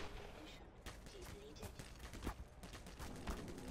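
Gunshots in the Black Mesa video game, a series of sharp cracks at uneven intervals, quiet and somewhat distant, mixed with background game noise and some speech.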